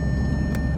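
Car warning chime heard as a steady high electronic tone over a low idling engine rumble, with a short burst of noise near the end.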